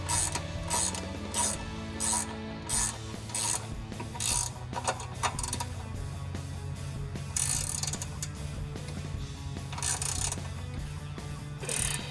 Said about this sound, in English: get this ratchet wrench to the other side